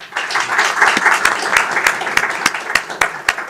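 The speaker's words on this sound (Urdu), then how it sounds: "ہم استقبال کرتے ہیں بھرپور تالیوں میں" An audience at a Kashmir Day seminar in Pakistan applauds, a dense steady wash of many hands clapping with some sharper close claps, lasting throughout.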